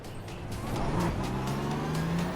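A BMW M4 GT3 race car laps Spa in the iRacing sim, its engine droning steadily then rising in pitch as it accelerates through gears, heard alone with a faint tire-like hiss.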